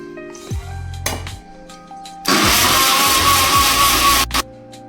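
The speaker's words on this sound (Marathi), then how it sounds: "आता इथे आलं लसूण आपण वाटून घेऊया." A mixer grinder grinding ginger and garlic whirs loudly and steadily for about two seconds, preceded by short bursts and clinks as the jar is handled.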